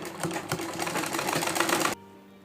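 A sewing machine stitches a ladies' salwar at close range, with a quick, steady mechanical chatter for about two seconds before stopping abruptly.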